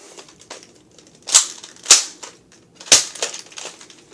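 A Nerf Maverick toy blaster fires three sharp, snappy shots with uneven gaps between them, each one loud and close. Between the shots there are faint mechanical clicks and handling noises.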